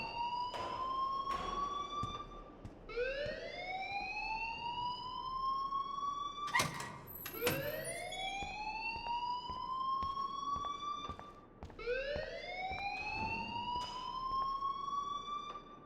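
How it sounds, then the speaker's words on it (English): A school alarm in the video game Life is Strange wails in repeated rising electronic sweeps, each climbing in pitch then holding, cycling steadily with brief pauses and a few clanks between, moderately loud with no talking. "please turn off that alarm since that's your job"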